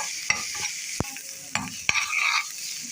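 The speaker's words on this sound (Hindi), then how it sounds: "इसको हमें फ्राई करना 2 से 3 मिनट।" Garlic, crushed chili and salt fry for a chutney in a pan, giving a soft steady sizzle broken by several sharp scraping stirs of a utensil, close and with no talking.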